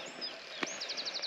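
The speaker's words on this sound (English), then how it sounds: "I can hear it now already is chiffchaff, willow warbler," Chiffchaff and willow warbler singing among yellow fields, thin high chirps with a clear repeated run of notes near the end, moderately close and not loud.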